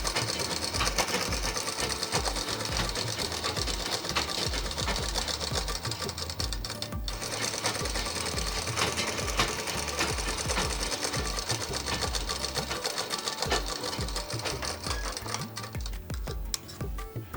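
A sewing machine runs continuously while stitching the chest side seams of a double-layered frock, a steady fast mechanical whir and rapid ticking needle rhythm throughout with no talk.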